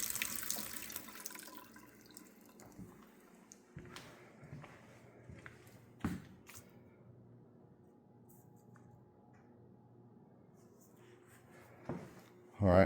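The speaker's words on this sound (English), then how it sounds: "Water does turn on." A kitchen tap in a house on a walkthrough gushes briefly at the start, then the room goes quiet apart from faint drips and a few sharp knocks near the sink.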